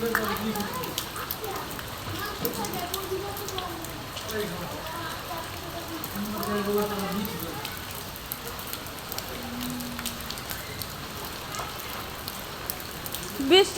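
Steady rain patters throughout while people talk quietly nearby.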